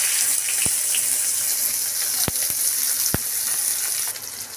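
Onion sizzling steadily in a karahi of hot oil tempered with panch phoron and a dried red chilli, for a fish curry with ridge gourd; a continuous bright frying hiss with a few sharp clinks, no talking.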